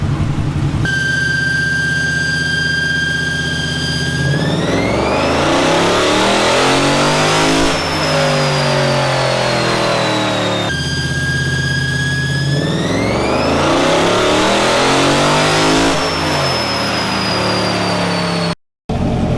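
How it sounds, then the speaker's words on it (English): A Chevrolet Corvette C7 with a new cam and converter runs on a dyno, engine roaring loud through two full pulls, pitch climbing steadily through the gears then dropping back before revving up again. "we've got the Corvette up and running. It's a little timing issue, got it squared away, got her all back together. Now it's on the dyno."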